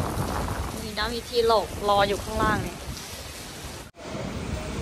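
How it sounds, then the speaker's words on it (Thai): Rain falls outdoors as a steady, soft hiss beneath a woman's clear speech, continuing through the pauses and briefly dropping out near the end. "ฝนกำลังตกแล้ว"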